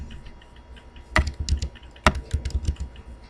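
Fingers tap a computer keyboard in two short bursts of quick, light clicks, close and fairly quiet, with no talking.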